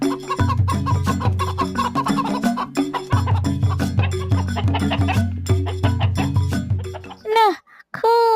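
Chickens cluck and squawk in a steady run over a loud, rhythmic musical backing, with a few sharper, rising calls near the end as the birds are fed.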